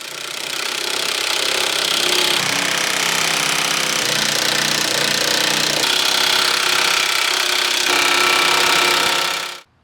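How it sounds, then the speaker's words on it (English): A DeWalt brushless 1/2 inch drive cordless impact wrench on a small 2 amp hour battery runs loud and steady for nearly ten seconds, a continuous rattling hammer-drive buzz that cuts off abruptly at the end. "this is a small battery, 2 amp hour battery on this DeWalt. 1/2 inch drive impact, brushless"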